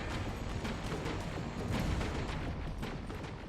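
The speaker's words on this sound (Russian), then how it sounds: "Нечего оглядываться на эти взрывы" Continuous heavy explosions in Terminator Resistance, a dense, loud rumbling barrage with repeated blasts blending into one another without pause.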